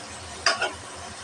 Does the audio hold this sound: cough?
no